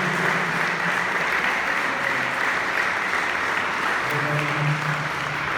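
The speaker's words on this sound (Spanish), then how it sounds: "Dale fuerte ese aplauso al Rey en esta mañana" A church congregation applauds loudly and steadily for the whole stretch, dense clapping with some voices faintly underneath.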